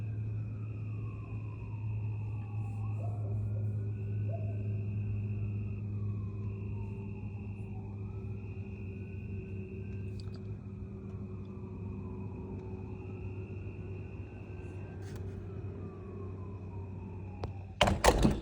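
Far-off ambulance sirens wail in slow rising and falling sweeps, faint beneath a steady low hum. A few sharp knocks come near the end.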